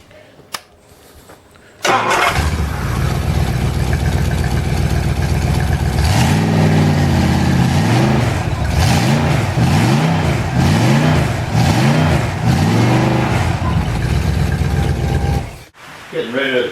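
A Ford 390 FE big block V8 on an engine test stand starts after a quiet moment, then runs loud and close with repeated rising and falling revs before cutting off near the end.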